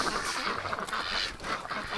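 A flock of ducks in winter quacking and honking continuously in a busy, overlapping chorus, fairly close and steady throughout.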